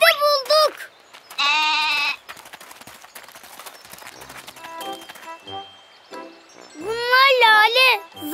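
A cartoon goat bleats loudly in wavering cries at the start, again around the second mark, and once more near the end, with child and adult cartoon voices talking in between.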